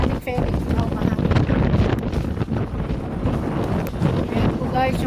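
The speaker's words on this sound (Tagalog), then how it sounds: "Dito lang sa may ferry, ang lakas ng hangin." Strong gusty wind at a ferry pier, roaring and buffeting the microphone continuously, with boat and water noise underneath and a person talking over it.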